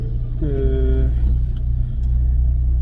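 A Honda S2000 with a loud exhaust idles close by, its deep, steady rumble running throughout, with a brief voice-like tone rising over it near the start.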